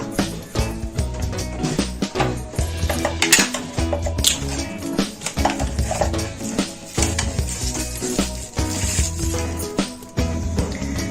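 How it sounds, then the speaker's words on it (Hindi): Beaten eggs being mixed in a bowl, with steady rhythmic clinking and scraping of a utensil against the dish, loud and close, continuing for several seconds without speech. "दूसरा अंडा भी हमें तोड़ लेना है, इसको भी अच्छे से मिक्स करना।"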